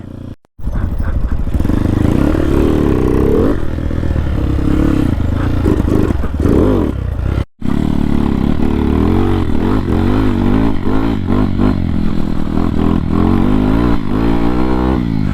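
A Honda XR dirt bike rides a steep off-road trail near Moab, its engine loud and close, snarling and revving continuously with clattering over the rough ground and one brief drop-out.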